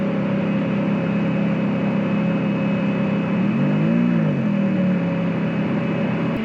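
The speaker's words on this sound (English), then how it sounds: "It's about to go up that ramp right now." A Ferrari F430 drives up a ramp, its engine a steady close drone with a brief rise and dip in pitch midway, heard alone without talk.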